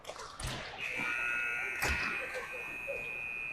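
At an ice hockey rink, a long, steady electronic buzzer sounds for a few seconds to end the warm-up, ringing out over arena murmur and a couple of thuds.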